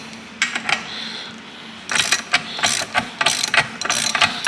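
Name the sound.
part threading itself in during front suspension rebuild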